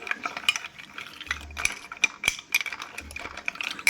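A spoon stirs salt and jaljeera powder into water in a glass, giving a quick run of light, sharp clinks and scrapes at an irregular rhythm, close and fairly soft, with no speech.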